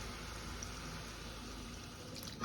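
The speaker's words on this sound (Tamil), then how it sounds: "இப்போ கொஞ்சமாக தண்ணி விடுங்க." Water poured in a small amount into a pan of well-sautéed mixed vegetables, making a steady, close hiss and sizzle that holds evenly throughout with no voices.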